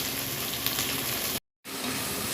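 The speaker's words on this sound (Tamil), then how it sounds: "வெங்காயம் வந்து நல்லா பொன்னிறமாக வரணும் அது வரைக்கும் வதங்கட்டும்" Onions sizzling steadily in hot oil in a pan for prawn biryani, a continuous close hiss broken once by a brief total silence.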